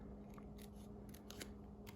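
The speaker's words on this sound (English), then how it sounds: "follow the outline of that O with my scissors" Scissors snip through paper, following the outline of a glued letter O on a Halloween trick-or-treat card overlay; several quiet, close crisp cuts in an irregular rhythm over a low steady background hum.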